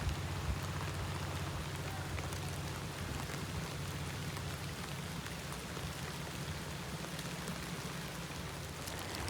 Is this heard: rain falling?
yes